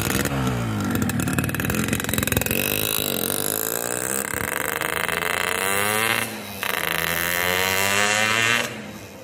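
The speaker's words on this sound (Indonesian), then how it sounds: "suaranya baru bertambah pedes itu kalau RPM-nya udah tinggi teman-teman" A motorcycle fitted with a Boban C33 exhaust revs up, its engine climbing and falling in pitch through several throttle blips, a loud, raspy close-up roar that drops off abruptly near the end.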